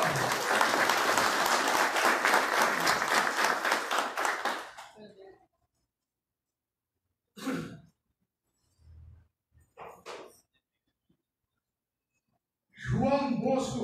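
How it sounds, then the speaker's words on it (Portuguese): Applause fills a municipal council chamber during a solemn honorary citizenship session, a dense round of clapping lasting several seconds before fading, followed by isolated speech. "Que eu peço uma salva de palmas."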